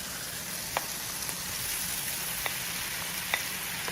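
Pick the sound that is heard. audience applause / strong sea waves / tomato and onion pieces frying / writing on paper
tomato and onion pieces frying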